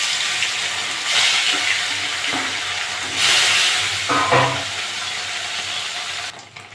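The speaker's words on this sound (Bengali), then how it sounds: "বাকি মাছগুলো আমি একইভাবে ভেজে নেব" More parshe fish sizzle in mustard oil, a close, steady frying hiss that swells in a few louder bursts and cuts off abruptly at the end.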